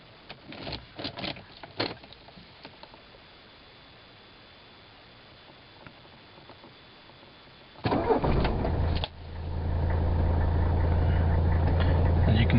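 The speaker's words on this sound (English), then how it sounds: "Okay, cold start." A 1982 Mercedes-Benz 300D turbo diesel is cold started: a brief starter crank, then the engine catches and settles into a loud, steady diesel idle, after quieter clicks and movement.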